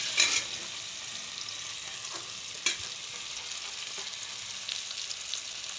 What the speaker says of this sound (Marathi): तेल गरम करून जिरे मोहरी फोडणी घेऊन त्यात टमाटर टाकलेलं आहे